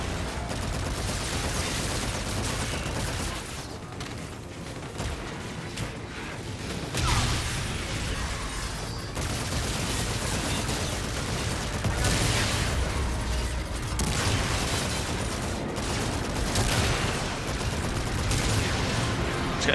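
A Ray K weapon in Call of Duty: Infinite Warfare fires in dense, loud bursts of rapid gunfire, broken by short pauses, with whooshes and game effects mixed throughout.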